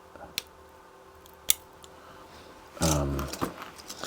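Scissors snip away plastic support material from a 3D print, giving a few sharp, isolated clicks followed by a louder, longer crunching cut near the end, close and quiet with no talking.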